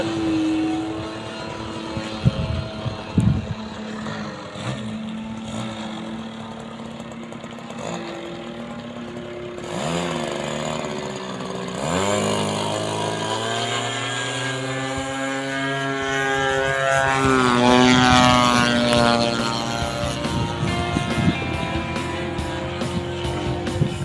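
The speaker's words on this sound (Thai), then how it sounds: "มาฟังเสียงโหดๆเร้าๆกันนะครับ ยังยังเครื่องยังไม่ร้อน" An OS .120 engine on a radio-controlled wooden model airplane, not yet warmed up, runs loud and close, its harsh buzzing pitch wavering and then climbing as the throttle opens over a sustained run.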